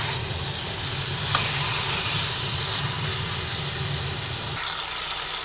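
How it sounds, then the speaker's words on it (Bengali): Chicken pieces being stirred and sautéed in a pan for capsicum chicken, loud continuous close sizzling with a few utensil scrapes and clinks, no talking. "মাংসটা দিয়ে ভালোভাবে আবার নাড়াচাড়া করে নিচ্ছি।"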